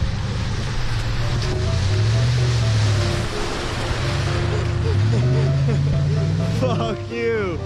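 A truck drives through a muddy trail puddle, its engine rising and falling in pitch under a loud, continuous wash of splashing water, with a brief voice near the end.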